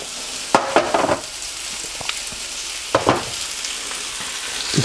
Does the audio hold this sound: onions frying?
yes